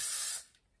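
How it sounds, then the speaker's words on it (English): Hairspray hisses from an aerosol can onto the front of the hair in one short, close, bright burst lasting under half a second, then quickly tails off into quiet. "I'm just going to spray the front a little bit with some hairspray"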